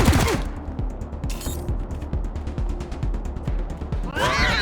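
Gunfire in the post-apocalyptic game Wasteland 3: a rapid string of sharp shots crackling in steady succession for several seconds, bracketed by brief bursts of other game sounds at the start and end.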